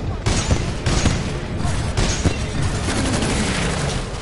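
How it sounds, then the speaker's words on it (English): A titan's tracking rockets firing in Titanfall 2, a loud rapid volley of booming launches and blasts packed densely over a few seconds, close and continuous. "we can lock onto enemies and target them with tracking rockets"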